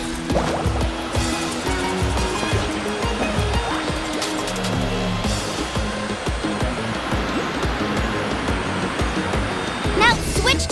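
Rushing water waves while surfing in Genshin Impact, a continuous splashing wash under game music with a steady loudness throughout.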